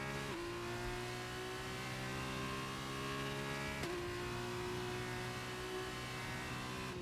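An F2 race car in the F1 23 video game runs a lap at Bahrain, its engine whining at high pitch and climbing through the revs, with a sharp upshift partway through, loud and steady with no talk.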